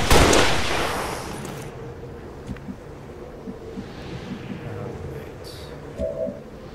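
Gunfire in XCOM 2 on Legendary difficulty: a loud burst at the start, then a string of short, sharp shots and muffled impacts trailing off under windy ambience, with a final brighter crack near the end.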